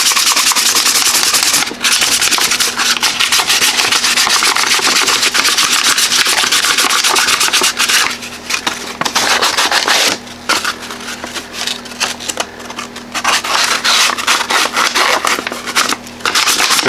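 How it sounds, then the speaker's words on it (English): Edges of a Kydex holster being sanded with 500 grit sandpaper, a loud, close, continuous rasping rub with brief pauses between strokes. "Now I'm gonna use a piece of this 500 grit sandpaper and just smooth everything up."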